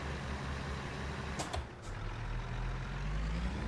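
A heavy truck in American Truck Simulator accelerates with a steady low engine drone that slowly rises in pitch, with a few brief clunks and hisses partway through.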